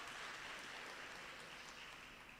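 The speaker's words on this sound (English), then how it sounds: "a huge round of applause for Dineo Langa for joining us today" Faint, distant audience applause at a Regenesys business school open day, an even wash of clapping with no breaks.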